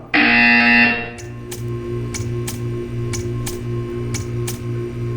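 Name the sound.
buzzer sounding in the video game Portal 2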